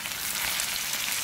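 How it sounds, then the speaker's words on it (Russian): Potatoes sizzle in a pan over a campfire on a Siberian riverbank, a close, steady hiss and crackle of frying with no voices. "я снова жарю наше коронное блюдо, картошечку"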